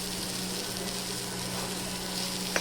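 Shredded lote fish jhuri fries in a pan with a steady, close sizzle while it is stirred, and a brief scrape comes near the end.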